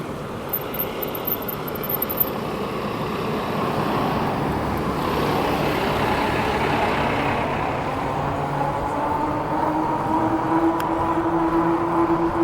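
A steady roar of road traffic, heard from an e-bike, builds as a truck rumbles past nearby, engine drone holding for several seconds.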